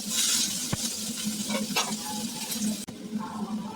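Chopped onions frying in oil in a kadai sizzle steadily and close by, with a few sharp spatula clicks and stirring scrapes, easing briefly near the end.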